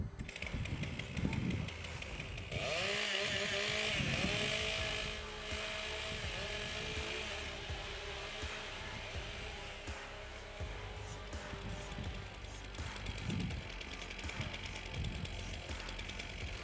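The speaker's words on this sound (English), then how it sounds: "Warm up your saws." Several chainsaws warm up at an Australian rookie timbersports championship, a loud buzzing snarl of revving engines with rising and falling pitches layered together, steady and close throughout.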